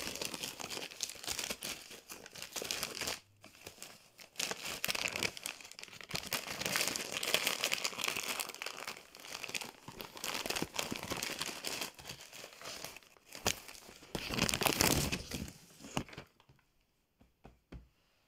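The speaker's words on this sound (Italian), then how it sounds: "Apriamo il regalo" Paper crinkling and tearing as a mystery Christmas present is unwrapped, sustained rustling bursts over about sixteen seconds, loudest near the end before falling quiet.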